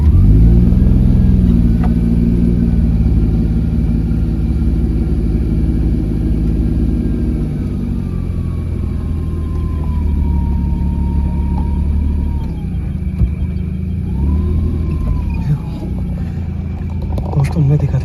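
A car engine hums steadily as the car moves slowly along a narrow road at night, close and loud throughout. A continuous low drone with mild swells is heard, along with faint gliding tones in the background.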